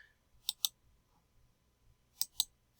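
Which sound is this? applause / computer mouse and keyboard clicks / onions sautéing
computer mouse and keyboard clicks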